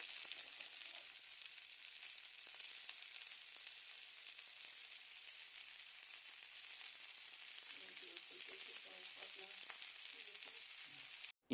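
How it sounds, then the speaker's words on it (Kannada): Onions fry in a pan until brown for a bitter gourd stir-fry, giving a steady, soft sizzle that continues throughout with faint stirring clinks near the end. "ಈರುಳ್ಳಿ ಕಂದು ಬಣ್ಣ ಬರುವವರೆಗೂ ಹುರಿದುಕೊಳ್ಬೇಕಾಗತ್ತೆ."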